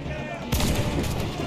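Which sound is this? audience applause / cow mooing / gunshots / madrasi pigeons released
gunshots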